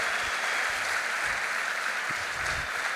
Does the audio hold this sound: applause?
yes